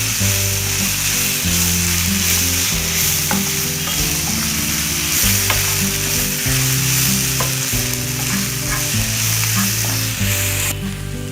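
Grated raw mango fries in a pan of tempering for pulihora, a loud, continuous close sizzle with steady stirring scrapes throughout.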